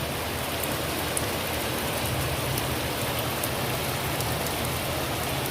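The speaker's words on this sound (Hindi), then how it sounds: "अब भी बारिश हो रही है, कितनी तेज़ झमाझम बारिश हो रही है" Heavy rain pours down in a dense, constant hiss, with scattered drops pattering on a nearby surface.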